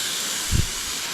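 Steak sizzling loudly in a pan at a riverside campsite just after being flipped, a steady bright hiss throughout with a brief low thump midway, no voices.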